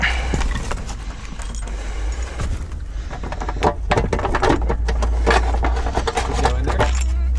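Metal keys jangle in bright, irregular clusters of clinks near a lock being worked on an abandoned 1969 Ford Torino, over a low steady hum with people talking nearby.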